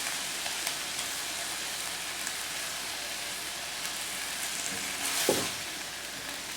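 Collard greens being heated in a pan give a steady, close sizzle with a rain-like hiss throughout, and a brief louder stirring scrape near the end.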